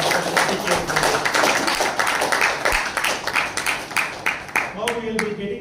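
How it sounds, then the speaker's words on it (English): Audience applause at a meeting after two speakers, scattered sharp claps rattling under a murmur of voices throughout. "Give a big round of applause."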